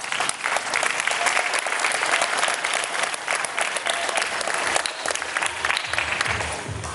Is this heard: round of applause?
yes